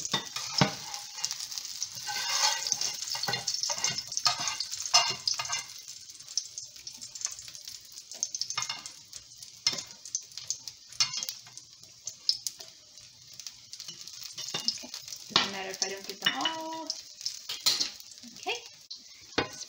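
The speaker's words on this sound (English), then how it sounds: "So this, we'll probably saute them for like about, I don't know, a minute or two." Scallions sautéing in oil in a pan, with a steady close sizzle, utensil stirring and scraping clatter throughout, and occasional voices underneath.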